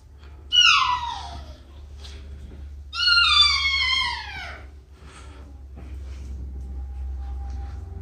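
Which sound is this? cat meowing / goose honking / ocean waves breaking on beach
cat meowing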